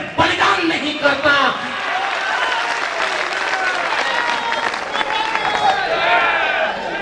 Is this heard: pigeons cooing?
no